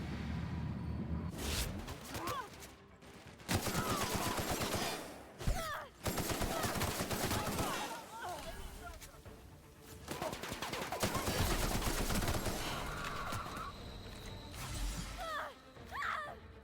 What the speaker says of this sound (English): this fellow with the shot cannon is really doing a number on me.